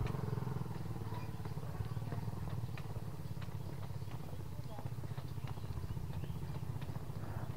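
A motorcycle engine runs near the Girpasang bridge in Klaten, a steady low droning hum that stays fairly constant at moderate loudness while people talk over it.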